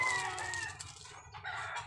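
Fighting rooster (gamecock) crowing or calling, a fairly faint, continuous fowl vocalization lasting about two seconds with no talking over it.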